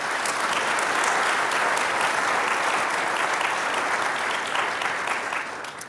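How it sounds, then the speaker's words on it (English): Warm, sustained applause from a conference audience thanking panellists at an actuarial plenary session, a steady dense clapping that holds evenly before tapering slightly at the end. "a big round of applause and a thank you to our panellists"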